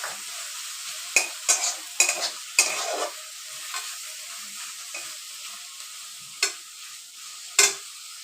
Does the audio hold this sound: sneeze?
no